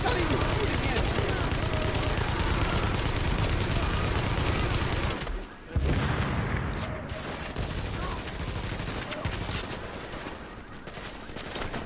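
Sustained bursts of gunfire from The Division video game, played with friends, crackle loudly and continuously throughout, with a brief dip midway, while players talk over the shooting.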